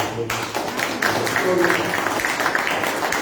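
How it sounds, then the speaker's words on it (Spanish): Steady applause from an audience at a talk on municipal and regional elections, a dense continuous patter of many hands at moderate loudness with voices mixed in underneath. "Por favor, aplausos para los"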